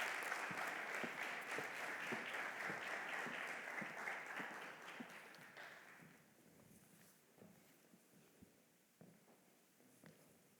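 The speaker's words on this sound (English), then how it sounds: "You guys can give them a round of applause as they walk in." Applause for a team walking on stage at a 2021 Impact Venture Challenge finale, with clear individual claps that start fairly strong, then thin out and fade into sparse scattered claps.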